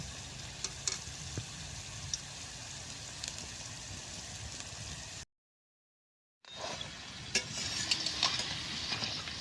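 Potato rolls fry in a pan with a steady quiet sizzle and occasional utensil scrapes and taps, broken by a brief silent gap before the frying resumes slightly louder.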